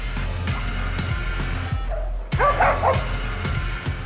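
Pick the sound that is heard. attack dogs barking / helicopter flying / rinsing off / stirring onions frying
attack dogs barking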